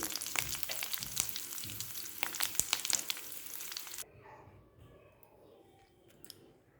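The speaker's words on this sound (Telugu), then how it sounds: "పోపు వేగి రెడీగా ఉంటుంది కదా" A tempering of spices crackles and sizzles in a hot pan for mint and tomato chutney, sharp pops over a steady fry that suddenly drops to a faint, quieter sizzle partway through.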